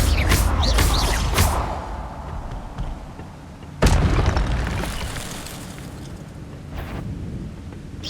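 Incendio fire spell cast in the video game Hogwarts Legacy, a loud whooshing blast at the start and another sharp booming burst midway, each trailing off into a rumbling roar.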